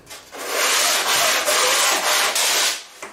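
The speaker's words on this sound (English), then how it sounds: "A little bit of sanding." Sandpaper rubs back and forth across a model aircraft wing in about five even, rasping strokes, close and loud, with short gaps between them.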